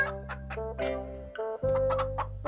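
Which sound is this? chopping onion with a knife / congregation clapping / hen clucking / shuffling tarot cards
hen clucking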